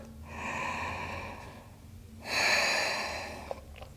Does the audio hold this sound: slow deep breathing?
yes